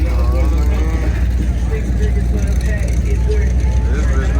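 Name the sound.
car engine running at a car show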